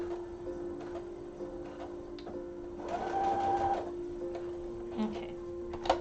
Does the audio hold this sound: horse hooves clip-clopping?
no